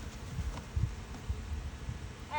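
Honey bees buzzing after their frame is tapped during an outdoor mite-count beekeeping class, a faint low hum with soft rustling, close by and without talk.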